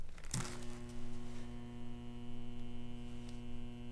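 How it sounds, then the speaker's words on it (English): A furnace blower motor hums steadily without its run capacitor after power is plugged in, a constant electrical drone that starts with a click and continues unchanged without spinning up. "My motor just sits there and hums and does absolutely nothing."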